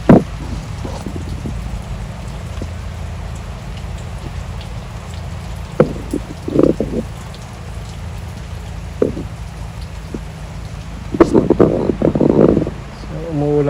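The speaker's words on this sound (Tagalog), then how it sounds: "So, umuulan pa rin talaga" Steady rain falling in Siargao, a soft continuous patter with occasional louder drips and knocks close by, a voice talking briefly over it near the end.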